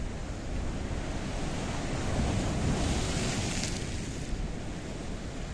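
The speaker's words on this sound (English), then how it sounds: "It's licking and it's a lapping this pier, that's for sure." Waves of the blue Mediterranean Sea washing steadily against a pier at a hidden beach near Kissonerga, Paphos, Cyprus, a continuous broad surf rush mixed with wind buffeting the microphone.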